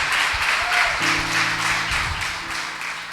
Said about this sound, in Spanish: Le damos un aplauso al Señor.